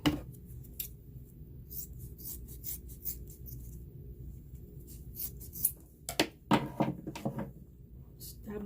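Scissors cut a Siser EasySubli sheet for a cap: a run of sharp snips and rustles late in the clip, preceded by scattered handling and rubbing sounds, close and fairly quiet.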